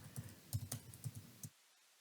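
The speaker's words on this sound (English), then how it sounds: "let's go ahead and type in workbook." A search word typed on a computer keyboard, a quick close run of about a dozen soft key clicks over a second and a half, then silence.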